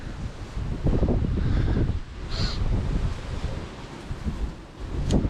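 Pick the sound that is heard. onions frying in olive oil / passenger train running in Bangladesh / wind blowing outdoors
wind blowing outdoors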